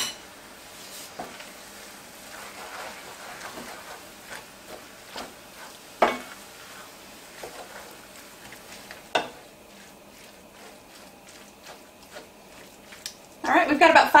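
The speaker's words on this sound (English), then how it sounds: "stir our turkey again" Ground turkey sizzles softly in a pan while a utensil stirs it, with a light steady frying hiss broken by scattered scrapes and clinks against the pan and a louder clatter at the end.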